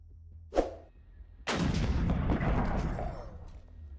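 Gunfire in Minecraft: a short muffled pop rings out first, then a loud, sustained burst of shooting and blast noise rumbles for a few seconds before fading, with no talking.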